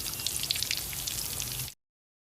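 Flower-shaped potato samosas fry in oil with a gentle, crackling bubble and fine popping, faint and steady before cutting off abruptly.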